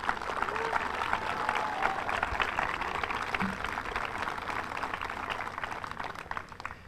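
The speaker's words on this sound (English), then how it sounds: "Please, a round of applause." Steady, sustained applause from an audience at a welcoming ceremony for the Traveling Vietnam Wall Memorial, filling the space evenly at moderate loudness with a faint murmur of voices.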